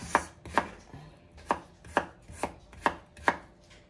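Potatoes are chopped into small pieces on a cutting board, seven or eight crisp knife thuds in an even rhythm about every half second, close and clear with no talking.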